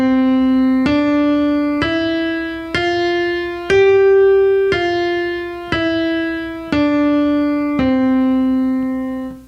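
Keyboard playing the Song of Joy melody, nine clean sustained notes in steady even rhythm, each a bright harmonic tone stepping up and down in small intervals, loud and close with no voices.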